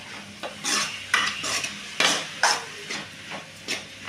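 Cooked dal stirred into cabbage and chili powder in a pan: repeated loud scraping strokes about every half second over a light background sizzle, close and clear.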